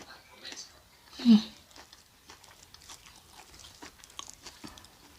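Crunchy fresh vegetables bitten once with a sharp, close crunch, then soft intermittent chewing sounds under quiet background noise.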